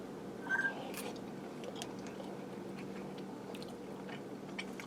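Someone bites into a meatball with cheese from a meatball dump casserole, a brief crunchy bite near the start followed by faint, soft chewing against a steady background hum.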